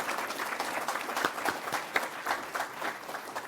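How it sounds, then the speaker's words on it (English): Steady applause from an audience at a digital inclusion awards ceremony, many hands clapping at moderate volume with a few sharper claps standing out, sustained for the whole stretch without speech. "let's give a round of applause to Shabukto Links and the wonderful work they've done so far."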